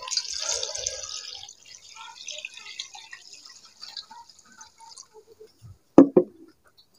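Water is poured into a pot of cooking chicken to make stock. A splashy, trickling stream runs first, then small scattered drips, and it ends with a couple of sharp knocks near the close.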